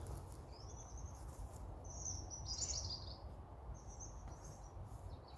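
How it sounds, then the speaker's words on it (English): Several robins sing in a cemetery, their high thin phrases coming and going at a moderate distance over a steady hum of insects and ambient noise. "Several singing robins at the moment"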